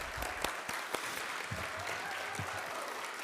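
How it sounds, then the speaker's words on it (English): Audience applauding at a 2025 junior science innovators awards ceremony, a steady dense clapping from a large crowd that fills the whole moment without letup. "Huge round of applause."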